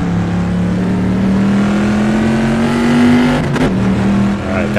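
A steady, droning Corvette C2 race car engine in the Assetto Corsa racing game at Watkins Glen, holding a high rev, with a brief gear shift near the end, loud and close with no talking.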